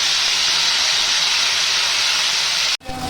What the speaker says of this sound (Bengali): আদা কাঁচা লঙ্কা বাটাটা দিয়ে দিব। এটা একটু ভালো করে ভেজে নিব